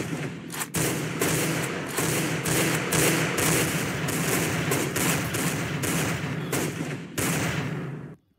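Rapid, loud gunfire from the video game CSGO, with sustained bursts of automatic shots close up that stop abruptly near the end.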